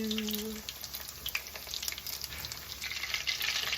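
Coconut shrimp egg rolls fry in hot oil, giving a steady, close crackling sizzle that holds for the whole stretch with no talking.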